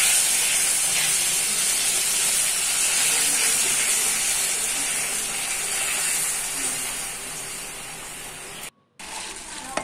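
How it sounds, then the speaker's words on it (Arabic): Garlic sautéed in oil and then quenched with vinegar for a trotters fatteh gives a loud, continuous hissing sizzle up close, with a brief dropout near the end. "نجيب طبعا زيت مع الثوم، نشوحهم ونطفيهم بالخل"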